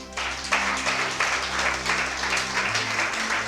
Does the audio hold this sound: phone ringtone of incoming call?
no